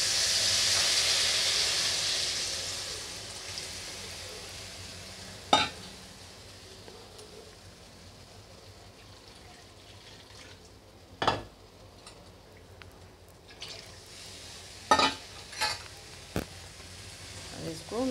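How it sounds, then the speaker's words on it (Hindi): Black chickpea curry simmering in a kadhai with a soft steady sizzle, while a spoon stirs and scrapes the pan in a few sharp clinks and scrapes, fairly quiet. "इसको लगातार चलाते रहेंगे"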